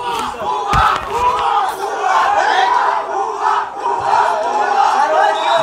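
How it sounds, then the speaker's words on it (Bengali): A loud, dense crowd of students chants protest slogans together at officials, rhythmic surging voices filling the whole stretch with steady, near intensity. "তারা এত উত্তেজিত ছিল যে তাদের আগমন কিন্তু তারা স্বাগতমও জানায়নি, বরঞ্চ বিভিন্নভাবে বিভিন্ন রকম স্লোগান দিয়ে তাদেরকে হেনস্থা করেছে।"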